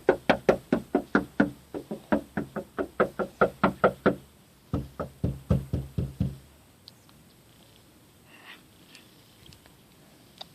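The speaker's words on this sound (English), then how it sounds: "had to knock on it." Rapid knuckle raps on a basement door come in sharp, loud bursts of about a dozen knocks each, repeated for several seconds before fading to quiet room noise with faint shuffling.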